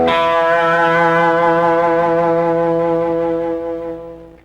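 A Fender Telecaster electric guitar through light distortion rings out one loud, sustained chord. The chord holds steady for a few seconds, then slowly fades, with no voices.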